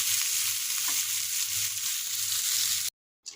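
Sliced pointed gourd (potol) sizzles steadily in a pan, a soft, even frying hiss close by that cuts off near the end.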